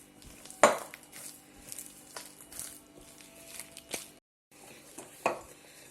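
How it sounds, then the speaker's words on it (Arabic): Brioche dough worked by hand with butter, giving a few soft slaps and knocks against a bowl amid low handling noise, with one sharper thump near the start and a brief pause later. "نعجنها مزيان حتى تذوب لينا هاد الزبده مع العجين"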